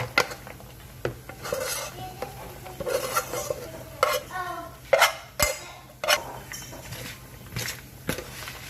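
Cooked sushi rice for vegan veggie rolls is dumped out of a pot, with scraping and clattering of cookware in irregular bursts, fairly close and moderately loud.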